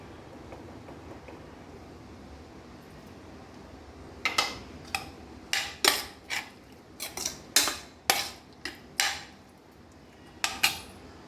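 A spoon mixes salt into ash gourd pachadi, quiet at first, then a run of about a dozen crisp metallic clinks and scrapes against the vessel in an uneven rhythm, close by.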